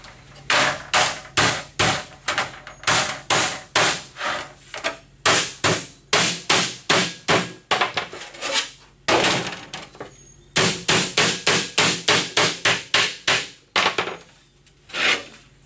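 Steady hammering on bent race car sheet metal to straighten it, rapid loud metallic blows in long runs with a few brief pauses, close up and with no talk.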